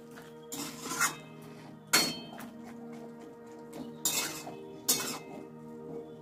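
Bottle gourd curry is stirred in a pot, with a handful of sharp metallic clinks and scrapes of a utensil against the pot, close and otherwise quiet with no talking.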